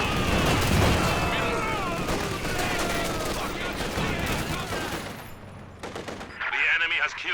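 Machine gun fire crackles through a large battle in Company of Heroes 2, with dense rattling bursts layered over other combat noise across the clip.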